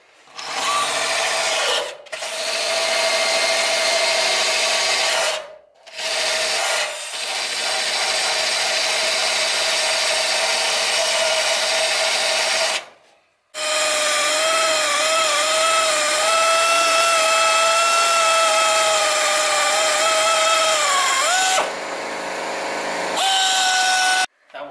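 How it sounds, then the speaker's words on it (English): A wire brush on a power tool grinds paint off metal on a turbo Hardbody pickup being prepped for drifting, a loud, continuous harsh whir in long bursts with short pauses and pitch shifts under load. "So we have to grind away the paint with our wire brush."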